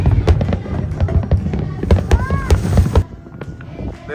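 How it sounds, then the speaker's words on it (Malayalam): New Year fireworks burst near the Burj Al Arab in Dubai, a rapid string of loud, close cracks and booms with rising whistles, then fading after three seconds. "ഇതിപ്പോ ബുർജൽ അറബിന്റെ തൊട്ടടുത്തുള്ള വെടിക്കെട്ട്"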